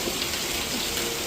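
Rain falls in a steady, close hiss, an even wash of drops with no pauses and no voices.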